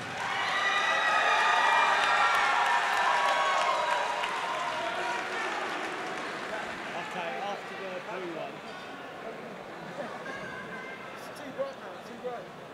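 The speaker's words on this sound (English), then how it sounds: "And let's cheer for your runner-up, Jake Mcevoy." Spectators at a Shock N Awe 24 MMA event cheer and applaud after a rear-naked-choke finish, loud at first and then fading, while an announcer speaks over the crowd.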